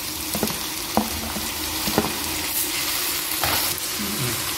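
Chicken, ginger, garlic and onion fry in a pressure cooker, giving a steady close sizzle with a few sharp stirring clinks and scrapes spaced through it, no talk.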